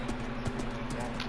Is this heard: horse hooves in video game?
yes